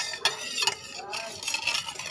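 A spoon clinks and scrapes around a glass or pot while lemon juice is stirred, a few quick taps and swirling clatters, close and fairly quiet.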